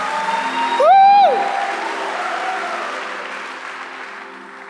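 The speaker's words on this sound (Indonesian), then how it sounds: "Berikan tepuk tangan sekali lagi yang meriah buat Tuhan." Church congregation applauding God during a worship service, a sustained wash of clapping with one loud shouted whoop rising and falling near the start, then the clapping slowly fades.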